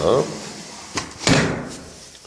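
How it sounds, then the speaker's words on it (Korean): A window is slid shut during an indoor light-level demonstration, producing a soft knock and then a heavier thud as it closes, close by, while someone talks. "그리고 다시 창문을 닫겠습니다."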